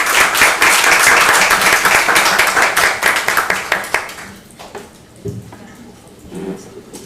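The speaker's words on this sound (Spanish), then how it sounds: "un aplauso para Edith" Classroom audience applauding a guest presenter after a talk on time use and unpaid work in Mexico, a loud dense burst of clapping that thins out and fades after about four seconds, followed by faint room noise and stray sounds.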